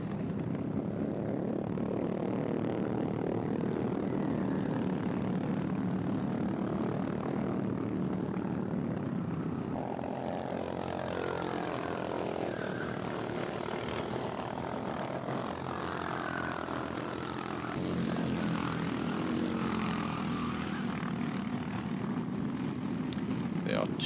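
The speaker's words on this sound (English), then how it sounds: "There are two number 46 karts on track, Cyril Niemand and Team SPH." Racing karts in a sprint and endurance race buzz past on the track with high, whining engine drones that rise and fall as they pass, while a commentator talks over the sound throughout.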